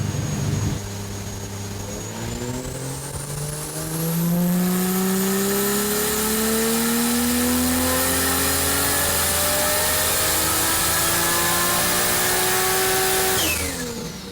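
Small-turbo 2JZ engine with six-speed manual, 660 hp, revving on a dyno: a loud, close engine note climbs steadily in pitch with a rising turbo whine, then drops off sharply at the end.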